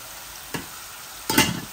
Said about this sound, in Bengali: এখন আমি মশলাগুলা দিয়ে দিচ্ছি, আর আমার ডিমগুলো আস্তে আস্তে ভাজা ভাজা হোক